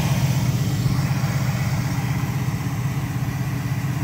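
A 1970 Pontiac Firebird Formula 400 idles steadily for four seconds, its V8 giving a smooth, even low rumble with a regular pulsing beat, close by and loud, with no voices.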